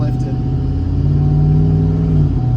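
A lifted Chevrolet Tahoe engine runs close by with a steady low rumble, its tone rising and settling as the transmission shifts smoothly, while someone talks over it.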